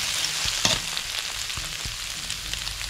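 Bamboo shoots, boiled overnight in natural mineral water, sizzle steadily as they are stir-fried in a hot pan, with a few sharp knocks of a utensil against the pan over the constant frying hiss.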